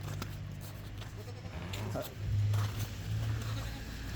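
Sheep bleat repeatedly, loud and close, in drawn-out nasal cries against a low background hum.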